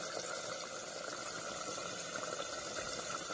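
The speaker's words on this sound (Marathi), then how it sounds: "इकडे आपलं दूध गरम व्हायला लागलेलं आहे" Milk heating up in a cooking pot gives a steady, close, even hiss and bubbling simmer that holds unchanged throughout, with no voices.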